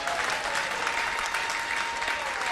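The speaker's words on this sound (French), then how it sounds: "Je veux des acclamations pour moi." An audience at an evening show cheering and applauding: dense, continuous clapping from a large crowd, loud and even throughout, with shouts blended in.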